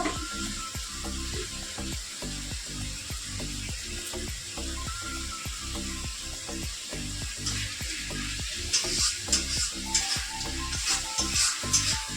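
Dal is tempered in hot oil, producing a continuous close sizzle with a steady run of soft rhythmic pulses throughout and brighter spattering crackles toward the end.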